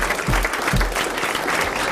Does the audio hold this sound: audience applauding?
yes